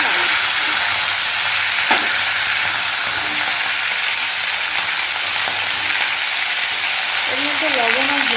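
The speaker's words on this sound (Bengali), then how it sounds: "ওই একই তেলে আমি 2টো তেজপাতা আর একটু গোটা জিরে ফোড়ন দিয়ে দেবো" Bay leaves and whole cumin seeds sputter in hot oil in a home kitchen, a constant bright sizzle with a brief clink near the start and faint tonal background noise toward the end.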